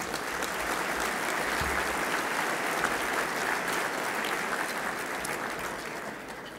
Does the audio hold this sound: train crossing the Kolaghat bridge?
no